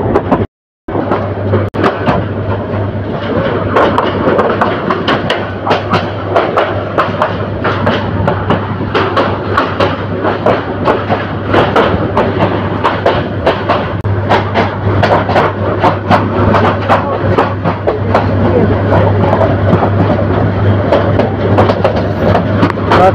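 An express train rolls slowly into Bhairab Bazar junction with a steady, loud rumble, repeated clanks and clatter of the cars, and a low sustained drone running underneath.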